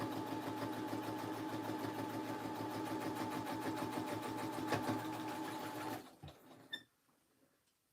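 A sewing machine runs steadily with a fast mechanical whir and rattle, close and constant, then stops near the end, leaving a few faint clicks and near silence.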